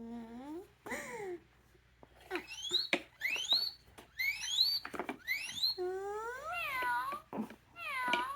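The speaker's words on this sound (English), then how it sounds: "This one is a cat." Recorded cat meows from a children's sound puzzle repeat several times, close and clear, with clicks and knocks of the puzzle being handled between them.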